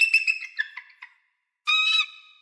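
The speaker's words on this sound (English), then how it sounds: "Bald eagles actually just chirp." Bald eagle gives a high, squeaky chirping call, a run of quick falling chirps and then a short pause before a sharper sustained squeal.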